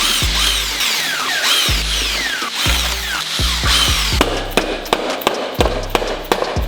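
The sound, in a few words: power tool zapping out 12mm bolts on upper intake manifold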